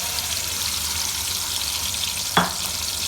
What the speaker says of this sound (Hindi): अब हमने ये जो मैरिनेटेड चिकन है वो हमने इसमें सारा शामिल कर देना है।